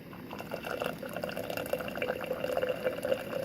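Hot water poured from a small tea kettle into a French press while brewing coffee, a steady close liquid trickle and splash with faint bubbling, running continuously and alone.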